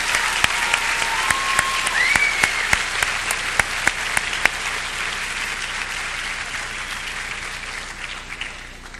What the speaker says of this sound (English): I think another round of applause for our senior choir and band members